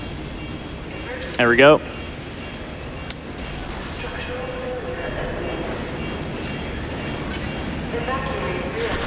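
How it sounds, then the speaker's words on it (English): A tram rail car rolls along in F.E.A.R. 2, a steady low rumble of rail travel running under a brief loud burst and someone talking. "It's like a tram rail car thing"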